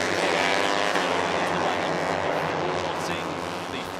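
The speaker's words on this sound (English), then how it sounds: "The throaty noise, I should say, of those Honda 250 engines into the right-hander." Honda 250 racing motorcycle engines roar steadily through a right-hand corner in a European Talent Cup race at Valencia, a dense close engine drone under a commentator's voice that fades slightly toward the end.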